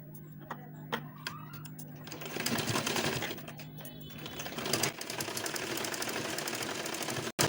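A sewing machine stitches pieces of a boat-neck blouse, running in rapid mechanical bursts that start and stop, loud and close, with a soft voice and faint clicks at the start.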